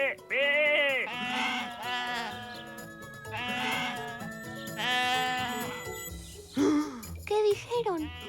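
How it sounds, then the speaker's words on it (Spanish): Sheep bleat repeatedly in a run of wavering, voice-like cries, loud and close, some overlapping, with brief pauses between calls and a few shorter bleats near the end. "Dicen que son ovejas, no gatos."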